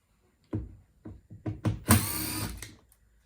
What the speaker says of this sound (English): there's some Torx screws, one there and one there. So we'll start by taking them off.